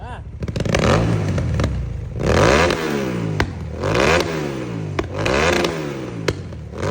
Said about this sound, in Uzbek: Ko'pchilikka qiziq bo'lgan mototsikl ovozi va bu joydan qanaqa qilib olov chiqishini hozir mana shu gapimdan keyin video qo'yib qo'yaman